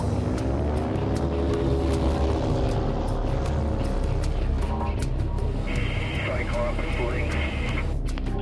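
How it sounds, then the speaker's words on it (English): An MQ-1 Predator drone's propeller engine drones steadily as the aircraft takes off. The engine runs as a constant buzzing rumble beneath radio chatter that continues throughout. "Link says Cyclops, we are airborne"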